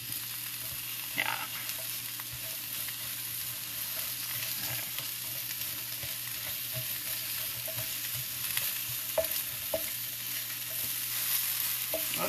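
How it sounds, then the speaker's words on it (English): Eggplant with anchovy sizzles steadily in a hot pan, broken by scattered clinks and scrapes of stirring, with no voices, a close and continuous fry sound for about twelve seconds. "Well, the eggplant is cooking really nicely."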